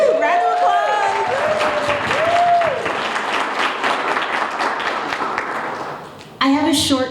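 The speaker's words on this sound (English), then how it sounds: "Round of applause!" An audience at a celebration for a mayor's jumpstart academy cohort applauds loudly and steadily, mixed with cheering voices at the start. The clapping fades out near the end and speech follows.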